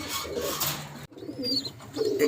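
Jira Shiyal pigeons cooing in a loft, a steady run of low, rhythmic coos from several birds close by, with a few brighter chirps mixed in.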